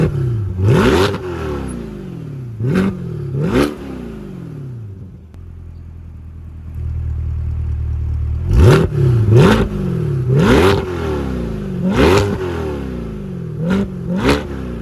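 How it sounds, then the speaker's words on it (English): A 2020 Chevrolet Corvette C8 is revved hard from startup: three sharp rising blips with falling decays, a short lower idle, then a run of five or six more loud, close throttle blips. "get a start up and some revs"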